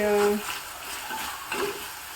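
Green peas frying in a pan, a soft sizzle with gentle stirring scrapes, fairly quiet and steady throughout, with a short tonal hum at the start.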